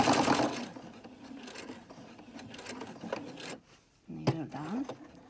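A sewing machine stitches an X across the corner of a shopping bag handle, a faint stuttering whir in short runs, with a brief pause before a final burst.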